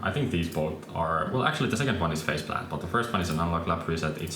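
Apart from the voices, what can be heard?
No distinct noise like a dog, phone or traffic.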